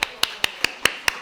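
Six sharp handclaps in a steady rhythm, about a fifth of a second apart, ring out close and crisp during a church Sabbath service, with no talk over them.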